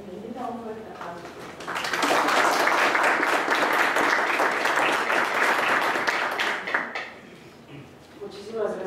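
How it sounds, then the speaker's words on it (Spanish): Audience applauding a speaker at a lecture on intellectual property basics: a voice talks briefly, then a dense swell of clapping fills the room for about five seconds before dying away into speech again. "Un fuerte aplauso."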